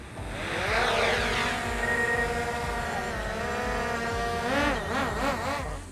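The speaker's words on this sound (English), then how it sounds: "now we're gonna get started with the aerial photos. I'm using the DJI Air 2S and the Smart Controller." A DJI Air 2S drone flies outdoors, its high buzzing propeller whine steady and fairly loud, shifting in pitch as it climbs and maneuvers, with no talk.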